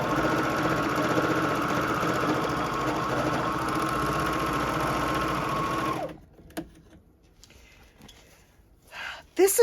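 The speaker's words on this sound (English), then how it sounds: "This is what I love about a serger." A JUKI serger stitches the edges of a quilted zipper bag, giving a fast, even mechanical whir for about six seconds. The machine then stops and leaves quiet handling noises and a few faint sounds.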